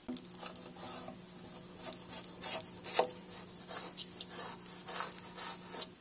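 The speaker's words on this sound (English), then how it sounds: "use that to gently clean off any paint that maybe is on the hinges or on the natural wood trim" A putty knife and damp rag rub and scrape across natural wood trim to clear off paint, a close, steady scratchy rasping with uneven strokes and no talk.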